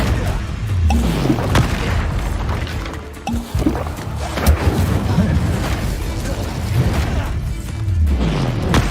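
Spell blasts in Hogwarts Legacy, including Confringo and Incendio: loud, heavy booms and whooshing impacts come one after another for nine seconds, with a short dip in the middle.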